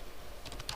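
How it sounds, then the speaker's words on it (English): Keys clatter on a computer keyboard in a quick, close burst of a few taps toward the end, quiet and alone over faint room hiss. "I am typing it here."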